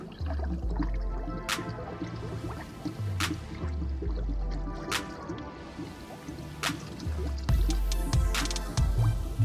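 Water poured into the coolant filling funnel of a Toyota Land Cruiser 100 Series during a heater hose T replacement, a steady liquid trickle with drips and small gurgles close by for the whole stretch.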